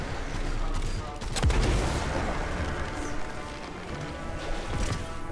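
Gunfire in the first-person shooter Destiny 2, with a burst of sharp shots and heavy impacts over a dense battle din, one loud blast standing out partway through.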